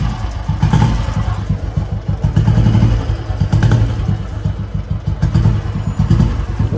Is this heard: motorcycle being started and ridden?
yes